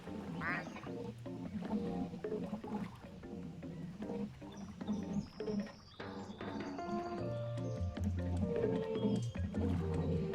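Duck quacking in a video game, repeated calls set against loud game music throughout.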